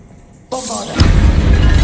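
A Bombarda blasting spell detonates in Hogwarts Legacy, a sudden loud burst followed by a second heavier boom with a lingering rumbling, crackling tail.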